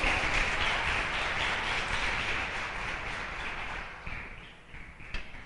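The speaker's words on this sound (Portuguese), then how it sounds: "Se é para Jesus, pode aplaudir." A church congregation applauds for Jesus after the preaching, with a steady wash of clapping that thins out and fades toward the end.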